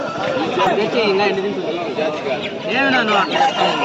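Roosters for sale at a busy Sunday market, brief clucks and fowl calls mixed into constant crowd chatter, with a person talking close by.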